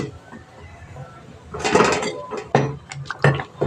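A spoon scrapes and clanks against a metal pot while kuzhambu with tomato and sambar powder is stirred: quiet at first, then a burst of close, bright metallic scraping and several sharp knocks.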